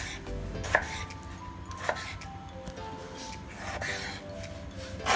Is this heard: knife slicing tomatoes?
yes